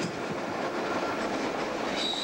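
An Algoma Central Railway tour train running through Algoma country gives a steady, dense rumble of wheels on track, loud and continuous, with a faint high squeal near the end and no voices.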